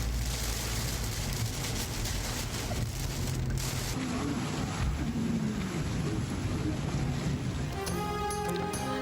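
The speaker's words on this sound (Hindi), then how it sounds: "कराची में एक बार फिर बारिश शुरू।" Rain falling in Karachi makes a steady, dense hiss that fills the whole stretch without a break, with some low rumbling underneath and no clear voices.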